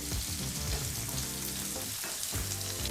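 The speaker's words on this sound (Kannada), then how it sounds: "ಸಾಂಬಾರ್ ಈರುಳ್ಳಿನ ನಾಲ್ಕರಿಂದ ಐದು ನಿಮಿಷ ಚೆನ್ನಾಗಿ ಫ್ರೈ ಮಾಡಾಯಿತು" Sambar onions frying in a pan for sambar, a steady, close sizzle with crackling and stirring, no voices.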